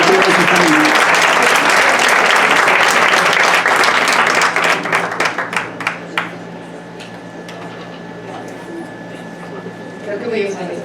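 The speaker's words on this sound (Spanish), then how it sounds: "Démosle un aplauso para que pase a compartir esta reunión." An audience applauds loudly and densely for several seconds, then the clapping thins into scattered claps and fades.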